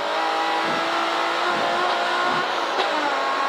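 An estate car driven hard around the Castle Combe race circuit, its engine droning steadily at high revs with pitch swells through the run, loud and continuous with no talk.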